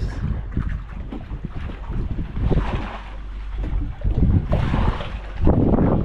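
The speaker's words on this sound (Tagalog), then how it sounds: "may palaot na bangka" Boat motor of a boat heading out to sea, chugging steadily amid gusty wind buffeting the microphone and a wash of water, loud and close throughout.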